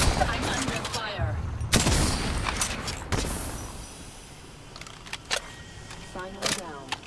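Bursts of gunfire in the Apex Legends battle royale game, sharp cracks and rattling volleys at close range amid scattered clicks and mechanical game effects, tapering to lighter pops.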